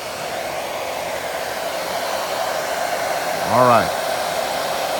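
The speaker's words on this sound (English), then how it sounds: "you're gonna use the blow dryer" A blow dryer drying hair runs continuously with a steady, loud roar throughout, close up, while a voice briefly speaks near the end.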